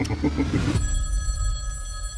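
A telephone bell rings with a sustained electronic trill, close and steady, after a brief rumble of other sound at the start.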